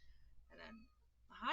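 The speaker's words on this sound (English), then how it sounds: "That's my cat." A pet cat meows in two short calls, the second louder and rising, with a brief spoken greeting in between, in a quiet room.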